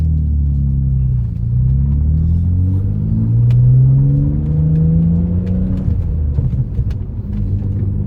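An Audi B5 S4 with the 2.7-litre bi-turbo engine drives along, its deep engine rumble rising and falling steadily as it accelerates and eases off, heard from inside the car without talk.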